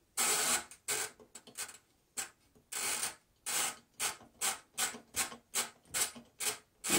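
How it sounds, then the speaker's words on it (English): Mechanical clicking and ratcheting from a 1935 Royal Model O typewriter as its ribbon spool direction is reversed, a close run of short, regular bursts with brief gaps, heard alone without talk. "When you get to the end of the spool, you just reverse the direction."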